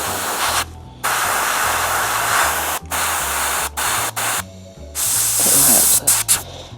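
Spray primer hisses from an aerosol can onto a cork miniature display base for Warhammer figures, loud close bursts of several seconds each separated by short gaps, with a low steady hum underneath.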